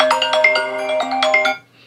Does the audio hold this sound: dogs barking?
no